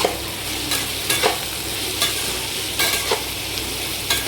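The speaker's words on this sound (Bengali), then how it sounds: "মাশরুম আর পটলটাকে বেশ কিছুক্ষণ নাড়াচাড়া করে একটু লাল করে ভাজতে হবে" Mushroom and pointed gourd being stir-fried in a pan, a steady sizzle under repeated scraping stirs that come every half second to second, close and fairly loud, with no voices.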